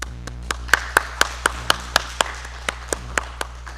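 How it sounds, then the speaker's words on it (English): Sparse, separate hand claps ring out over a steady low hum at a senior graduation ceremony in 2020, a few people clapping in an uneven rhythm to honour the top-ranked graduating students. "I'd like us all to give a special applaud to Saeed Khatib, Aya Muhammad, and Summer Hu"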